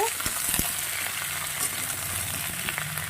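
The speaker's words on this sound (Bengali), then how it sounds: "এবার আমি এই সবজিটা একটু ওই তেলে ভেজে নেব" Vegetables frying in oil in a pan, a steady loud sizzle throughout with light stirring clicks.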